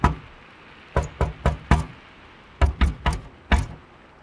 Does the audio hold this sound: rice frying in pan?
no